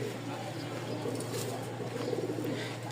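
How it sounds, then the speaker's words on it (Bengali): Pigeons in a loft cooing softly, a low throaty rolling coo repeated steadily under a faint hiss of background noise, with other quiet bird sounds around them. "আমি আগে নটটার ডাক দেখাবো আপনাদেরকে, যে আসলে কবুতর কি সুন্দর ডাকে।"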